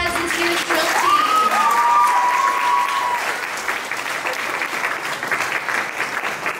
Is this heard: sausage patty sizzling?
no